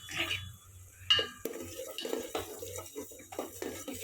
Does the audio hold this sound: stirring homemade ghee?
yes